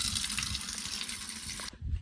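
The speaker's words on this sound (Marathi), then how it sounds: "चला पाणी भरून घेऊया आता" Water gushes steadily from a tank pipe in a village for a couple of seconds, then cuts off abruptly, leaving a brief low splash.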